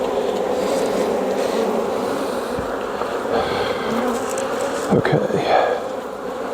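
Honeybees hum steadily around an open hive during an inspection, a dense close buzz running throughout, with a brief spoken word near the end and a few handling knocks.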